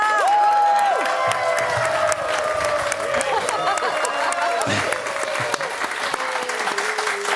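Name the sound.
studio audience applause and cheering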